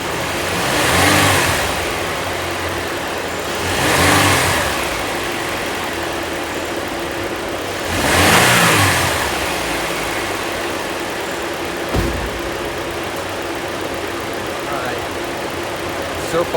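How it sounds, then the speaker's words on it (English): A car engine, under repair for a fuel pump driver circuit fault, is revved three times in slow succession, each swell rising and falling back to a steady idle, with a voice talking at times. "I'm going to rev it up, make sure we got a fix here."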